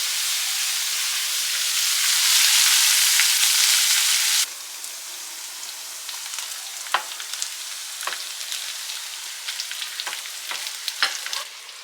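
Potatoes with fenugreek leaves frying in a pan, a loud dense sizzle for the first few seconds that then drops to a quieter steady fry, with sharp crackles and pops scattered throughout.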